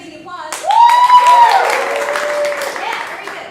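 An audience at a live improv comedy show breaks into loud crowd applause with whooping, rising cheers that swell quickly and then hold steady for a few seconds.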